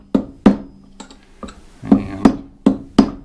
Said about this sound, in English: Get our punch in here with our hammer